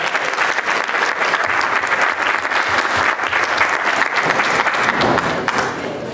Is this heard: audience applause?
yes